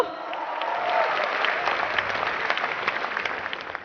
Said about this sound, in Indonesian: Beliau Bapak Sugeng Hendro Santoso, mohon aplaus untuk beliau.